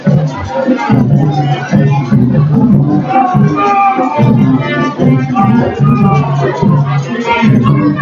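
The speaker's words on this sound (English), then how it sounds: "Here the Jonesboro crowd getting a little bit loud." Crowd at a high school football game between Jonesboro and Riverdale growing loud on a fourth-and-one play: steady, dense babble of many voices and shouts, fairly close and continuous throughout.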